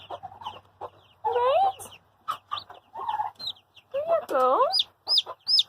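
Silkie hens cluck and chirp around a tiny chick in a farm pen, with short bursts of calls close by and a person speaking briefly between them.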